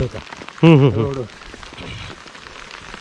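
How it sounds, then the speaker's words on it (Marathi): Heavy rain falls steadily near the Jotiba temple trail, a constant wash of patter under a short burst of nearby talk. "आज पाऊस जोरात पडलाय"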